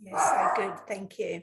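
A pet dog barks indoors at someone at the door, its short, loud barks mixed in with a person speaking close by.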